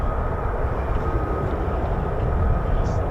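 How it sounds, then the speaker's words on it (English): F-35 fighter jets taxiing across the runway at RAF Lakenheath produce a steady, broad engine roar with a continuous rumble and a faint high whine, loud and unbroken throughout. "Anticipating these F-35s. Here they are, they're crossing the runway."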